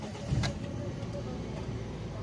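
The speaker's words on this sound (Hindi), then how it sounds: "गाड़ी अभी न्यूट्रल पोजीशन पर है, ये मैं सेल्फ लगा रहा हूँ।" A Toyota car in neutral is cranked over with the starter: a short whir and catch near the start, then a steady low engine rumble idling close by.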